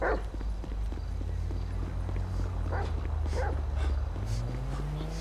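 A dog in Grand Theft Auto V gives short yips and whimpers in scattered bursts over a steady low game hum and rumble, with a rising engine-like drone near the end.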